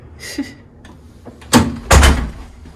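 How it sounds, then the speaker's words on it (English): A hotel room door is handled, with a few clicks and rattles followed by two solid thuds close by, in a quiet room. "Door."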